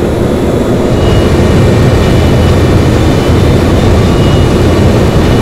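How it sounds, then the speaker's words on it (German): Helicopter flying ahead during a Train Simulator drive on an SBB RE 4/4 route, a loud, steady, continuous rotor and engine roar filling the whole stretch with no talk. "Vorne fliegt ein Helikopter."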